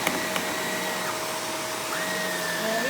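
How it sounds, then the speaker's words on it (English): Household vacuum cleaner running steadily on a floor, a loud continuous whirring drone with a shifting motor whine and no voices over it. "And now I can vacuum."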